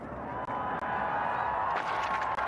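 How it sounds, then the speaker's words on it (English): Spectators roaring and cheering for an Austrian freeskier at the Kreischberg Big Air World Cup, a dense, steady wall of crowd noise with whoops rising toward the end. "You hear the roar of the crowd for the Austrian."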